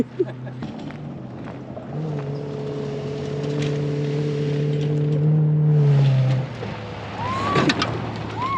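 A pit bike engine held at full throttle, a strained, buzzing drone that sustains for several seconds and then cuts out, with faint background noise and bird calls after.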